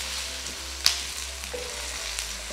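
Onions and garlic fry in a pan for an aloo gosht base, giving a soft, steady sizzle with a faint tap or two. No one speaks.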